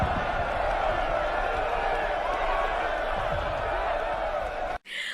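Apes in War for the Planet of the Apes raise a dense, continuous roar of cheering and shouting that holds steady, then cuts off abruptly into near silence just before the end.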